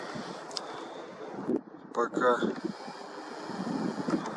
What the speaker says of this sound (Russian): Опять ветерочек.